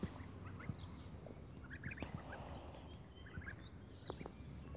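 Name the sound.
turkey gobbling on a farm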